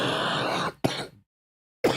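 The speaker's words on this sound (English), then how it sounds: "Sorry, worst cough ever." Noisy background breaks off into a short, sharp cough or throat-clear from a sick person, then silence and another brief burst at the end.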